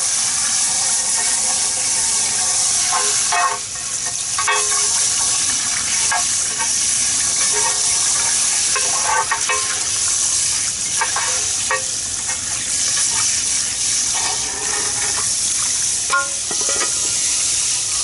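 Water running over a maple bonsai's pot and roots during repotting, a continuous loud splashing rush with scattered knocks and handling noises.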